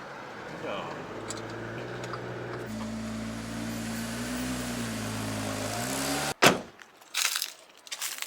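A Ferrari engine revs on the Fiorano test track, heard from a distance as a steady hum that climbs and steps in pitch through gear changes, then gives way to close rustling and bumps.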